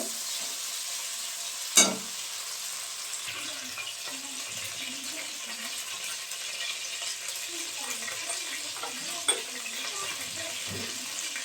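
A spice paste with a pinch of salt sautés in a pan, giving a steady soft sizzle with faint stirring scrapes and two sharp utensil knocks.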